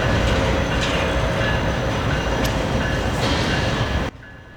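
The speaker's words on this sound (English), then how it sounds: "NS 7554 is a GE ES40DC built in 2005." A Norfolk Southern freight train hauling a GE ES40DC locomotive built in 2005 rumbles past loudly and continuously with a clattering roar, then cuts off abruptly near the end.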